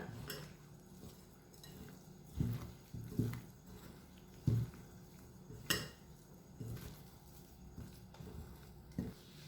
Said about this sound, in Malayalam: എല്ലാം കൂടി നന്നായിട്ടൊന്ന് മിക്സ് ചെയ്ത് കൊടുക്കുക.